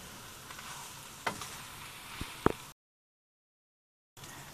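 Pork asado filling with allspice gets stirred in a pan, a low sizzle broken by a few sharp spoon clacks, then a brief silence before the frying resumes.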